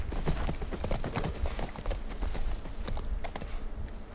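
Horse hooves clip-clop in the video game The Last of Us, a close, continuous run of rhythmic hoof strikes with no talking over them.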